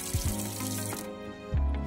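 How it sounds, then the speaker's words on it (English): Tap water runs steadily into a sink during hand washing in a medical assisting demonstration, a continuous close splashing with a louder surge near the end, no talk. "we're gonna leave our water running because we don't wanna recontaminate our hands"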